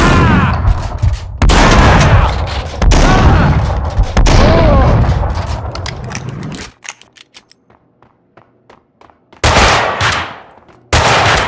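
Loud, sustained automatic gunfire in the game Max Payne 2, dense overlapping bursts for several seconds, then a near-quiet stretch with faint scattered clicks before two more sharp, heavy blasts.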